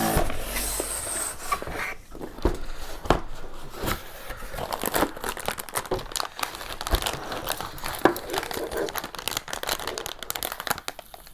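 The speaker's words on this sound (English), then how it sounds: "so let's go ahead and open the 3090 now" Packaging of an EVGA RTX 3090 FTW3 graphics card being opened, with close crinkling and rustling of cardboard and plastic, irregular tearing and rubbing sounds, and a few sharper knocks throughout.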